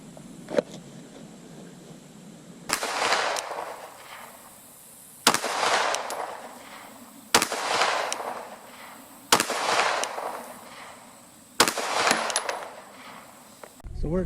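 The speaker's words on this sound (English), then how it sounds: "We'll shoot 5 more." Five sharp handgun shots fired at a cardboard target on a range, a pistol fitted with a Holosun 407C red dot, spaced about two seconds apart, each a loud crack with a short ringing tail over faint background noise.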